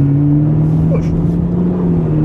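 A car engine running steadily with a constant low hum, close and fairly loud, the tone shifting only slightly as the gas is pushed, with a brief faint sound partway through.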